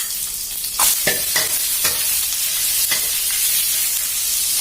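Tofu, shiitake mushrooms and black fungus stir-fry in about three tablespoons of hot oil, giving a constant bright sizzle with a few utensil clicks early on.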